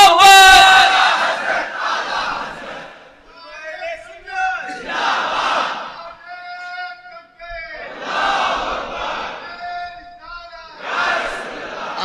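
Large crowd at a religious gathering shouting slogans in unison in answer to a leader: four loud call-and-response bursts of massed voices, each swelling and fading, separated by a single voice calling out.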